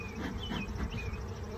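A dense, steady hum of bees fills a hive box during a spring split, sitting at a constant level with no voices, a few faint high whines drifting through.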